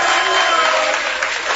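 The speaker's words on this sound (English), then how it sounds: "Can you guys give him a round of applause, please?" Brief, steady applause from a studio audience at a sports talk show, an even rush of many hands clapping with a few voices mixed in.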